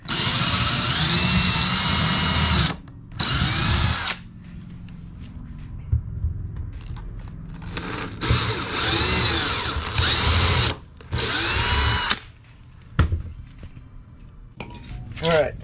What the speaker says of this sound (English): Just gonna drill, punch a hole through so it marks the whole location on the holding tank.